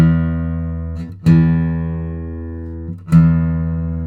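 Deep bass notes on a Brazilian rosewood and Adirondack spruce acoustic guitar struck a few times, each ringing long and full, with a sharp attack at every pluck.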